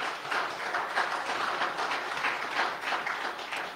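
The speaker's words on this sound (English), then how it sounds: "And so give yourselves a big round of applause." Audience applause at a fundraising gathering, a steady wash of many hands clapping for several seconds at moderate distance, with no voices over it.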